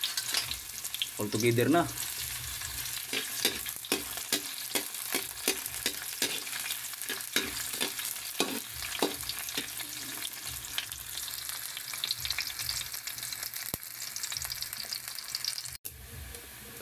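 Onion and garlic sauté in hot oil with a continuous loud sizzle, broken by rapid scraping strokes of a spatula throughout; a brief spoken remark comes early on.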